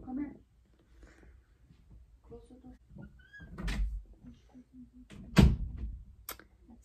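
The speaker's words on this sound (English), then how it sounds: "Close the door." Door pushed shut in a home, one sharp thud rising above scattered talk and household shuffling, with a few softer knocks before it.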